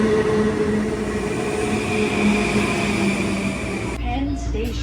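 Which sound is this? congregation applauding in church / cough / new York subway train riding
new York subway train riding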